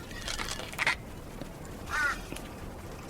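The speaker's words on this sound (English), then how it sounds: "Crows seem to like it." Crows on a scrubby stretch of the Victoria coast give two distinct caws about a second apart, moderately near, over steady wind and surf noise.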